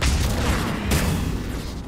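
A loud, rumbling Mass Effect 3 explosion fills the moment, a sustained roaring blast with a sharp secondary burst midway before it fades slightly.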